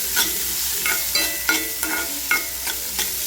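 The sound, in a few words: onions being fried and stirred for dahi bhindi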